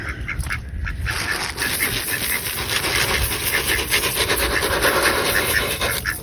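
Ducks gather at a metal feeder on a muddy farm patch with a little grass, giving steady quacks and honks over constant rustling and scuffling close by.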